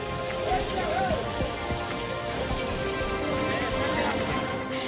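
Steady rain falls in the Surankot municipal area of Poonch, where streets are waterlogged and drains overflow; a continuous wash of rainfall fills the scene while a voice talks over it.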